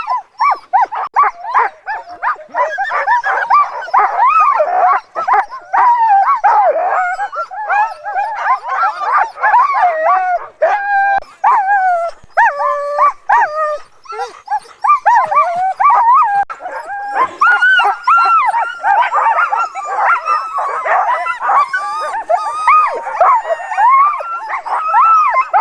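Sled dogs on an Arctic expedition bark, yip and howl continuously and loudly at close range, a dense overlapping chorus with whining cries, after the main sleigh tipped over at a muddy crossing.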